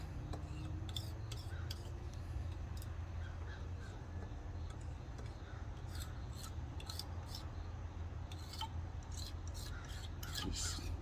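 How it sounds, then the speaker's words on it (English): Gasket residue being scraped off an engine intake manifold surface with a makeshift tool, repeated short close scrapes over a constant low hum. "You don't want to do it too hard. You're just scraping the surface."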